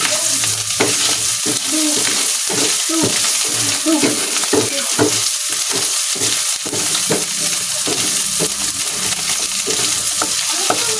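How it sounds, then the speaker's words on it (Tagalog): Pork pieces fry until golden brown in a pan, with a loud, constant sizzle throughout and repeated scraping stirs of a spoon or spatula against the pan, close up and with no talking. "Ating hahaluin. Golden brown na po ang ating karne."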